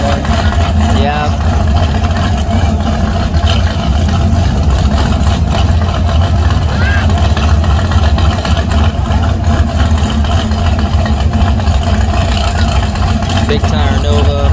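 A big-tire Chevrolet Nova with a big-block engine races at a drag strip, its steady loud engine roar continuous throughout with people talking over it.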